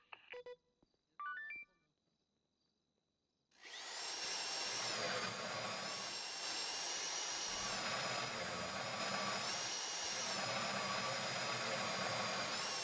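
Bank vault drill running during a GTA V Nopixel roleplay heist at Paleto Bank, a loud steady mechanical whine that starts abruptly after a few short dial-tone beeps and continues without break to the end.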